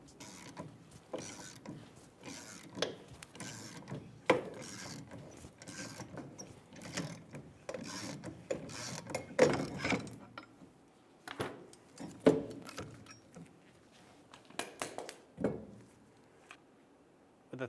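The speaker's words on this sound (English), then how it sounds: "Start to pull off the drum." A 3-jaw puller spindle bolted to the rear brake drum of a 2000-2007 Ford Focus works the drum off, giving a series of irregular metallic clicks, clanks and ratcheting knocks, close and fairly quiet, with pauses between bursts.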